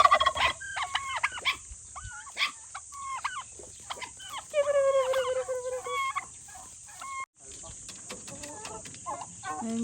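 Turkeys gobbling and fowl clucking nearby on a farm, a busy mix of warbling calls and chatter with steady farmyard bird noise throughout.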